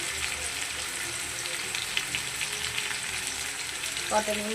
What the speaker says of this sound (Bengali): এবার আমি দিয়ে দিচ্ছি পটলগুলো